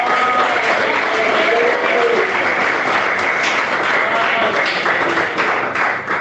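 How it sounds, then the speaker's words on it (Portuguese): A church congregation claps hands during a Portuguese-language sermon, a continuous, fairly loud wave of clapping with some voices mixed in underneath, fading slightly at the very end. "Bate palmas."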